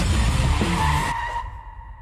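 Car braking hard to avoid a pedestrian while fleeing a casino, loud tire skid and squeal lasting about a second before cutting off, leaving a faint lingering tone.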